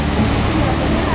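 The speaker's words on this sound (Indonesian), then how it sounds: "jadi kita sudah berada di bawah air terjun persis" A waterfall at Takapala Malino roars as a loud, steady wash of broadband noise, heard from right below the falls.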